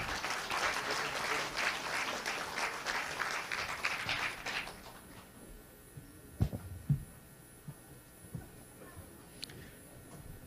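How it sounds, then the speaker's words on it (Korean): An audience claps to welcome party leadership candidates onto the stage at a Korean political party convention debate, with dense applause for about four seconds before it stops abruptly, followed by a quiet hall with scattered thumps and small noises. "여러분들께서는 큰 박수로 맞아주시기 바랍니다."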